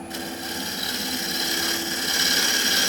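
Wood lathe shear cutting the edge of a London plane bowl, a steady whirring hum with a continuous fine scraping hiss, close and unbroken throughout with no talk.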